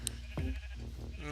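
Minecraft sheep at a wool farm give a brief bleat near the end, heard amid game ambience while a person's voice is also present.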